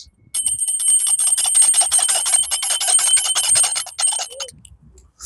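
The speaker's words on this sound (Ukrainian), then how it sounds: "І дзвони Єрусалима закінчують зібрання, і брат Севолод помолиться" Bells of Jerusalem ring out loudly at the close of a street gathering in Lviv, a rapid, bright, continuous chiming lasting about four seconds before stopping abruptly, with no speech.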